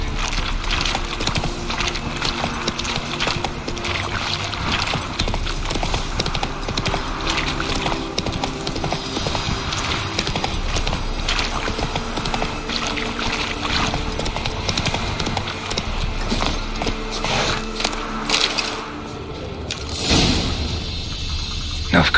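Roach, a horse in The Witcher 3, gallops with steady rapid hoofbeats over a continuous bed of game ambience and music, the clatter staying close and loud throughout.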